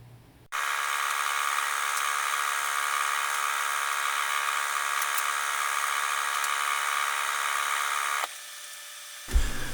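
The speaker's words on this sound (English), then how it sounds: "drill into the wall with a hammer drill" A hammer drill bores into a shop wall, a loud continuous whine and rattle running unbroken for about eight seconds before cutting off.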